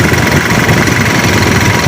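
A Mitsubishi Canter Euro 4 diesel engine idles close by with a continuous rough rumble as its cooling fan winds down, with no voices over it.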